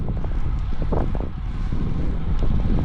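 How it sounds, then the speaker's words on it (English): Headwind buffeting a microphone during a solo road cycling ride, a loud, continuous low rumble and roar that swells and gusts steadily throughout, with no voices. "But this headwind is killer."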